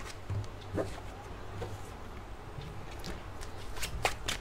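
Tarot cards being shuffled by hand during a reading give soft, faint riffling and flicking sounds over a low steady hum, with a few crisper card snaps near the end.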